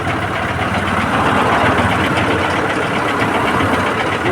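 A vehicle engine idles steadily during an engine carbon-cleaning job, a loud, continuous, close rumble with no break.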